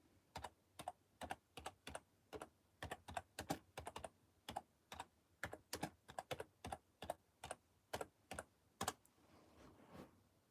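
Keys clack on a computer keyboard in a quick, irregular typing rhythm, crisp and close, with short pauses between bursts and a faint murmur at the very end.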